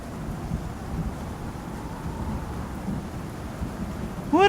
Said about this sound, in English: It started at the end of a storm?